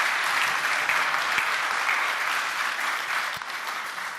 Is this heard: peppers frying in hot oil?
no